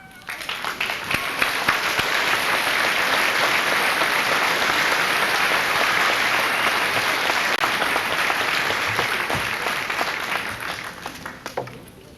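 Sustained applause from a large audience at a high school senior assembly, a dense steady clapping roar lasting many seconds before tapering at the end.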